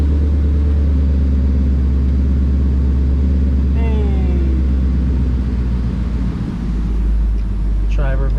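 A Roush supercharged Ford Mustang idles loudly with a deep, steady engine rumble while sitting up on a lift, joined by a rising whine and brief voices near the end.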